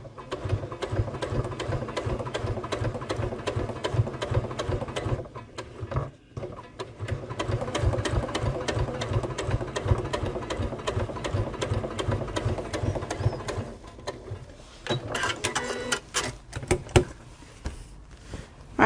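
A sewing machine stitches binding onto a Sew Together bag with a long, continuous rapid needle chatter and motor whir, close up, pausing briefly a few times before resuming.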